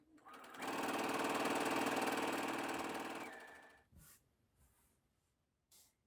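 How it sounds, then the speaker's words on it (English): A sewing machine runs a straight row of stitches through a single layer of dress fabric, a steady, close buzzing chatter lasting almost three seconds before stopping. A few faint clicks and handling noises follow. "It's a normal row of stitching just through the one layer of fabric."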